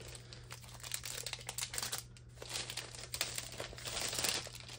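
Crinkly transparent plastic wrap being pulled off a diamond painting canvas, a close, continuous crackling and rustling that rises and falls for several seconds over a low steady hum, with no talking.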